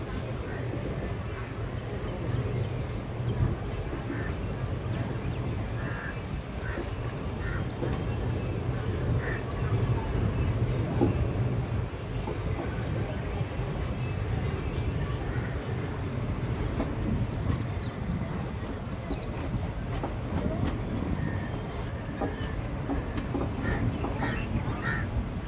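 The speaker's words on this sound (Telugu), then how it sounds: "మన ట్రైన్ అయితే పోలర్ రైల్వే స్టేషన్ అయితే క్రాస్ చేసింది అనమాట" A train passing through Polur railway station rolls on with a continuous low rumble and rattle of carriages, steady and moderately loud from on board, with faint bird calls and distant chatter mixed in.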